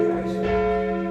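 Church bells of St Margaret's in Bethersden, Kent, ringing loud and close, a rich sustained metallic tone with overlapping hum and harmonics, no talking.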